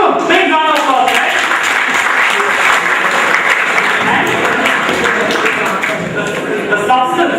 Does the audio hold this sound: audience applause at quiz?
yes